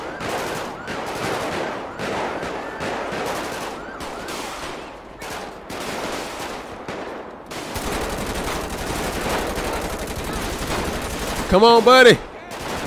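Bursts of automatic gunfire and shots in a chaotic GTA 5 sheriff county patrol shootout, steady rattling throughout with a siren-like whine near the end, while someone talks over it.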